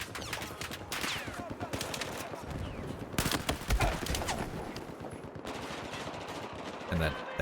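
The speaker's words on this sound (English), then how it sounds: "Machine guns posted on the rooftops." Rapid, sustained machine gun bursts in Battlefield multiplayer rattle on with rooftop gun positions in play, loud and dense, with short pauses and sharper reports mixed in and a voice speaking over parts of the firing.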